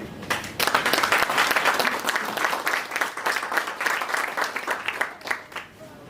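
An audience at an award ceremony applauds loudly, a dense sustained burst of many hands clapping that swells, holds and tapers off over about six seconds.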